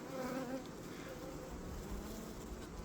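A honey bee swarm buzzes on a hive frame, a dense, steady hum of many bees heard close up and continuing without a break the whole time.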